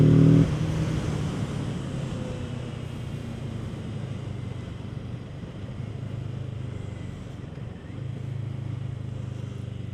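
A Kawasaki Z650 motorcycle engine drones steadily while riding in third gear, a continuous low rumble mixed with wind rush, with a brief shift in tone partway through.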